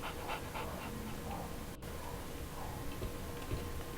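A dog belonging to Barnes pants softly and steadily in the Sherlock Holmes The Awakened video game, set against constant background noise with a faint tick.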